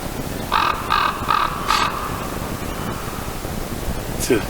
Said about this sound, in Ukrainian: Чуєте, це круки ворони такі великі.